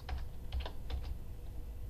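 Short bursts of keystrokes on a computer keyboard while values are entered into drafting software, a few quick clusters of clicks close up over a low steady hum, no talking.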